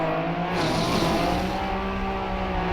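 Rally car in the Trackmania racing game driving continuously, a steady loud engine drone with tonal harmonics and tire noise as it slides through turns, with no talk.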